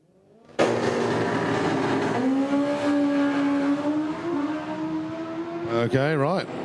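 Drag race cars roaring down the track at an MDRA Haltech November Finals meet, a loud engine blast erupting suddenly and holding a high sustained drone, with a wavering siren-like warble near the end.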